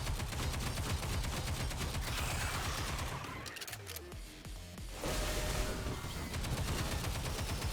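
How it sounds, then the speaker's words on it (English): An assault rifle in Stellar Blade fires in dense, rapid automatic bursts, loud and close, pausing briefly in the middle before the fire resumes just as steadily. "This is her assault rifle."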